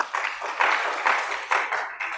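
Church congregation clapping in rhythmic bursts, moderately loud and fairly close, with a few distinct waves of applause over a short span.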